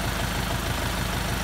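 A DTZ 5504K tractor diesel engine idles steadily while warming up after a cold start in freezing weather, with a constant, loud, low rhythmic chug and no voices.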